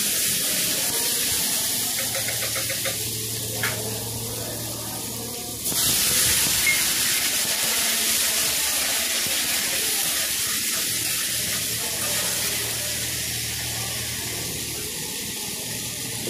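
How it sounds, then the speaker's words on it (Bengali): Pumpkin and chickpeas stir-fry with ginger paste in a hot pan, producing a continuous loud hissing sizzle that swells after a few seconds and runs steadily throughout, close by and with no talk over it. "এরপর আদা বাটা দেওয়ার পর সমস্ত সবজিটা খুব ভালো করে আমি কষিয়ে নিচ্ছি"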